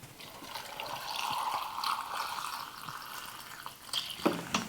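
Water poured into a vinegar brine for pork, a soft continuous trickling stream that rises slightly in pitch as the container fills, followed by a couple of brief louder splashes near the end.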